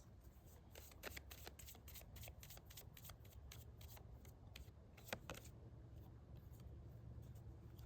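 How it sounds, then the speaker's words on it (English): An oracle card deck gets shuffled close by in a quick run of crisp riffling flicks and snaps, fairly faint and with no talking. "I'm going to go ahead and pull an oracle card to end this reading"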